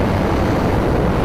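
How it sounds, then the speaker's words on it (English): A motorcycle engine is heard as throttle is added while leaning through a turn, giving a loud, steady roar with no pause or talk. "You hear the engine go up?"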